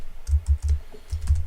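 Fingers type on a new computer keyboard that has a German layout, a quick run of close, crisp key clicks in irregular bursts with brief pauses between them and no talking.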